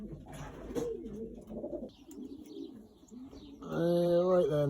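Racing and breeding pigeons in a loft coo softly in low, throaty phrases that rise into a fuller, louder coo near the end, with faint chirps between.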